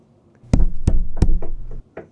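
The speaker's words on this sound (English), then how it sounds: "Bang the walls if you can hear me." Knocks come through a wall of an old cruise ship cabin from the neighbouring room, about six firm, irregular bangs close by and loud.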